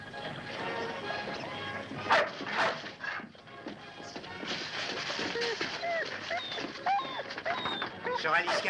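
A dog barks in short bursts in a scene from a western film, mixed in with people talking nearby.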